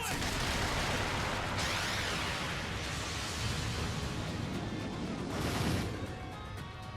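A sustained barrage of gunfire from the Justice Bullet S-craft in Trails of Cold Steel IV, a dense continuous roar of rapid shots and impacts that stays loud for several seconds before easing slightly at the end.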